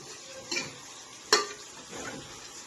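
Country chicken mixed with ginger garlic paste and garam masala in a pot, giving a few scattered scrapes and clinks of a spoon against the vessel, close and sparse, with a faint background sizzle.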